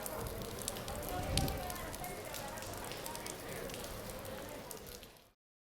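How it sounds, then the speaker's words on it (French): Rain falling steadily outdoors while walking near a cathedral, a continuous patter and hiss of drops on surfaces, soft and even throughout before cutting off abruptly. "Il pleut encore"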